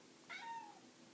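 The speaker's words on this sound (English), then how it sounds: "you may have heard my cat Stitch meowing in the background" A house cat meows once, a short, faint cry in the background of a quiet indoor room.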